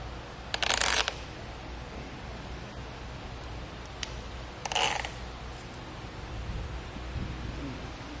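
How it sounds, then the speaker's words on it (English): Zip ties are ratcheted tight on a Yakima LongHaul RV bike rack outdoors, two quick zipping bursts a few seconds apart over steady wind noise. "you want to be sure to replace your zip strips so you can keep track of them"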